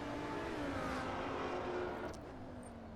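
Engine of an all-wheel-drive race car on the Watkins Glen circuit in a racing video game, a steady high-pitched drone that holds through, with a faint whine on top, then eases slightly toward the end.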